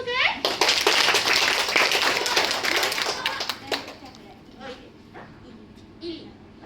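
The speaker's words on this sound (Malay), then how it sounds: "Okey, bagi tepukan." A group in a first-aid class claps for a volunteer, a loud burst of hand claps that thins out after a few seconds, with children's voices and chatter around it.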